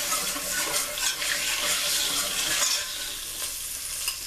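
Flour whisked a little at a time into hot oil for a seafood gumbo roux, giving a steady close hiss and sizzle with soft scraping strokes and no voices.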